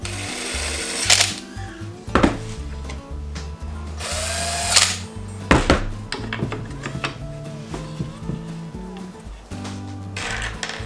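A power drill drives screws into the handles of a Flow Hive beehive box, with short whining bursts of the motor, sharp clunks and pauses between screws, all close by.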